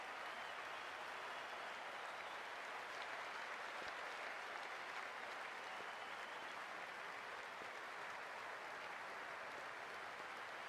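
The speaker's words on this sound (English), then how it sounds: "already the crowd is up and about." Large crowd at a cricket stadium before the IPL 2024 final between SRH and KKR, roaring and clapping in a loud, continuous wash of sound that holds steady throughout without a break.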